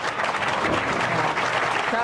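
Crowd at a 1998 women's pro bowling tournament in Lubbock, Texas breaks into steady, dense applause, clapping continuously at close range.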